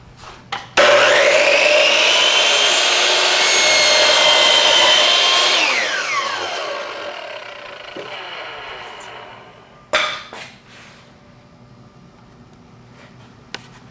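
A Hitachi C12FCH miter saw spins up and cuts through wood in one loud, sustained whine that tapers off as the blade slows, followed by a couple of sharp clicks.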